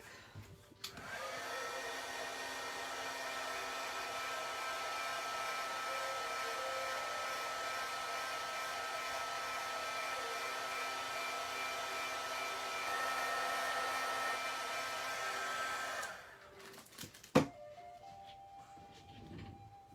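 A crafting heat tool blows hot air onto embossing powder on a Valentine card, producing a steady, loud whirring hum for about fifteen seconds before switching off with a click and a brief clatter.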